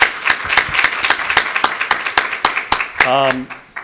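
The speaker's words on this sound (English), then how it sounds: "Let's give everybody a big round of applause." A small audience applauds a panel at a webcast event, individual claps ringing out in an even, fairly sparse rhythm before a voice cuts in near the end.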